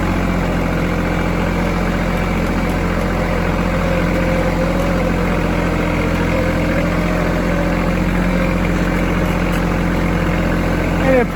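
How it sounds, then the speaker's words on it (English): A tractor engine idles throttled down at a house build site, a loud, steady low rumble that holds unchanged for about eleven seconds. "we'll keep the tractor kind of throttled down, but we'll try not to make much noise."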